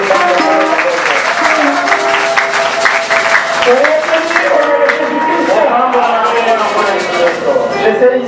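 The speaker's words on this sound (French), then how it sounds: "Acclamons tous pour le Seigneur Jésus-Christ." A church congregation applauds and cheers together, a dense, steady wash of clapping with voices mixed in that fills the whole stretch at close, loud level.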